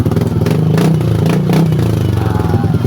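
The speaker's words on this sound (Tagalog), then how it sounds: "kumandar na yung ating makina it's alive" A Yamaha Aerox scooter engine that had sat unused for a month runs steadily after starting, with a low, continuous mechanical drone and some clattering close by.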